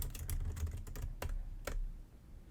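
Computer keyboard keys tapped while entering Photoshop shortcuts, a handful of quick clicky strokes in a short irregular cluster, faint and close in a quiet room.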